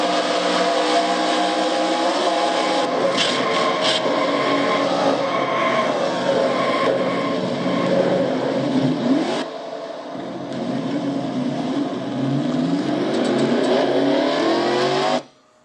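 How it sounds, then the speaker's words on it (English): A stalled race car in a Castrol GTX Cup sim racing event gets refired: a loud, steady engine drone carries on, drops briefly, then revs back up to full power. "Alexander getting his car refired."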